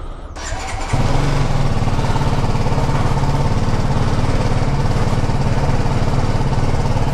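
A BMW GS motorcycle engine starts up, then holds a loud, steady throbbing drone close by for several seconds while the bike rides off, with no voices over it.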